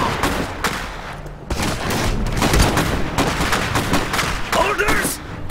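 Loud, close battle gunfire in the video game Iron Harvest, with dense bursts of rifle and machine-gun shots, sharp cracks and booms overlapping almost continuously, and brief voices mixed in.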